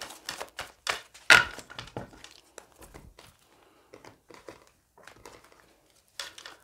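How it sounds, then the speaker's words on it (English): Tarot cards shuffled by hand at close range in quick bursts of riffling and slapping, one sharp loud snap early, then softer intermittent card sounds with pauses. "I want them nice and shuffled, baby."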